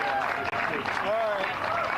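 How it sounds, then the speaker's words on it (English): Spectators at a bagger motorcycle racing podium at Chuckwalla Valley Raceway give the three competitors a round of applause, moderate clapping running under a voice on the public address. "How about a nice round of applause for all 3 of these competitors?"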